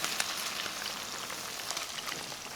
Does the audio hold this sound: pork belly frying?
yes